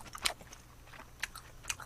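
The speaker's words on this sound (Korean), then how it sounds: "여기 아까 제가 주문했던 김말이 한번 먹어볼까요? 바삭하게 생겼는데." A crispy fried seaweed roll (gimmari) is bitten and chewed close up, with three sharp crunches spaced out over quiet mouth sounds.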